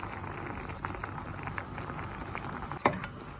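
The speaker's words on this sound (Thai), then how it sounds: "พอแล้วนำขึ้นตั้งไฟจ้ะ เดือดแล้วน่ากินมากเลย" Squid with eggs simmering in a small amount of water in a pot over the heat, giving a steady bubbling patter with one sharper pop near the end.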